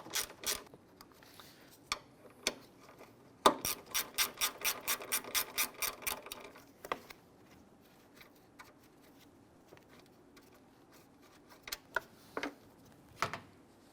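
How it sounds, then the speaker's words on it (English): A 1/4-inch ratchet loosens a 10mm bolt on a Jeep Grand Cherokee headlamp, giving a fast, close run of crisp ratcheting clicks followed by a few scattered metallic clicks in a quiet workspace. "I'm just going to use a 1/4-inch ratchet, loosen and remove this"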